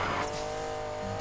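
Race car engine noise from the Need for Speed Payback video game, a level 399 car, a steady engine drone with a brief surge near the end, alone without talk.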